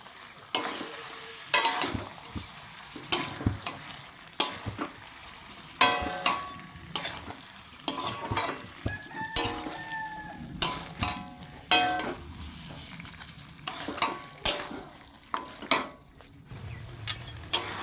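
Bottle gourd and meat are stirred in a pan, a ladle scraping and knocking against the metal in regular strokes about once a second over a low sizzle.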